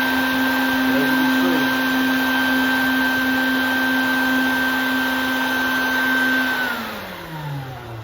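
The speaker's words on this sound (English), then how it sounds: "Align your hose and go to vacuum it." Bucket Head shop vac mounted on a bucket, set up for collecting bees, runs with a loud, steady whine and hum close by, then spins down near the end as it is switched off.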